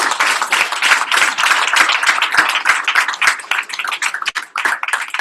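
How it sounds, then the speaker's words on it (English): An audience at an evening mastermind meeting in Raleigh claps, a loud, close burst of many hands with a lively, uneven rhythm that thins out toward the end. "give yourself a round of applause for coming out tonight"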